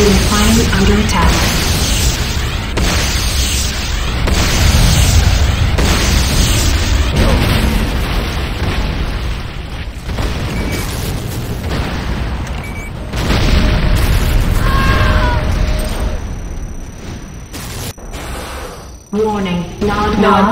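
Explosions tearing apart a Nod power plant in the Renegade video game, repeated loud booms and bursts over a long stretch, with game announcements and players talking over the blasts.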